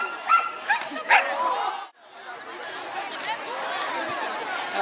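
A dog at a disc dog show gives several short barks and yips, mixed with crowd chatter and voices, and a dense murmur of spectators continues after a brief pause.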